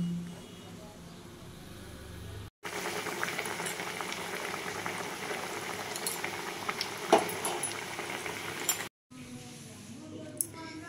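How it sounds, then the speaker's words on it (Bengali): Kakra pithe, filled Bengali dumplings, fry in hot oil with a steady bubbling sizzle that runs for several seconds, broken by two brief cuts, with faint clinks of a utensil now and then. "দেখুন এরকমভাবে আমি সব পিঠে ভেজে নেব"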